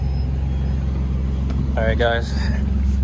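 A single-turbo Nissan G35 rolls slowly along the road, its engine giving a steady low rumble that runs throughout while someone speaks briefly over it.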